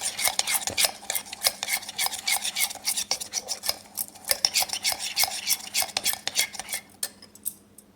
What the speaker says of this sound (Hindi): अभी हम इसको थोड़ा सा और व्हिप करेंगे